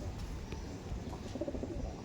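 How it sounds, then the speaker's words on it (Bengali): Soft, low cooing from active Kalanka pigeons in a loft, a few brief murmuring calls close by, with no talk. "খুব সুন্দর পায়রা আছে, অ্যাক্টিভ পায়রা আছে"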